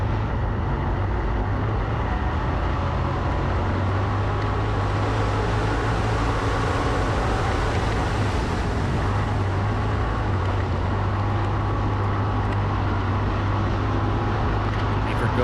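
Race cars circling the Jackson Motorplex dirt speedway, their engines a continuous, droning roar at a steady distance, with muffled voices faintly mixed in underneath.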